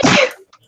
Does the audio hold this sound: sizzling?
no